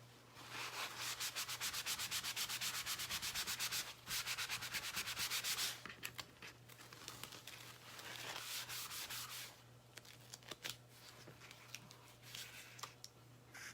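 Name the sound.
board eraser rubbing a chalkboard clean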